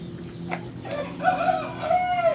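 Chickens cluck and call nearby, a few short clucks followed by longer drawn-out crowing notes over a low background hum.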